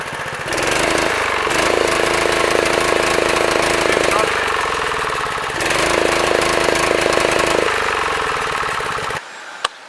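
A neglected Honda GX160 minibike engine runs too rich, chugging loudly and steadily with rough, uneven firing, then cuts off abruptly near the end.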